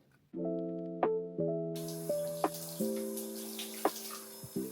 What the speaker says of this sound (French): Allez c'est parti, on prend la douche.